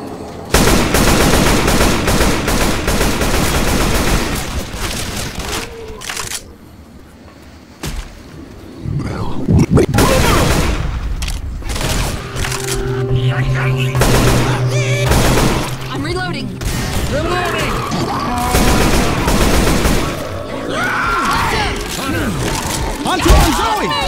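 Video game Left 4 Dead 2 gunfire: loud, dense bursts of rapid automatic and single shots with breaking and impact sounds, nearly continuous, with a brief lull, while character voices speak over the action.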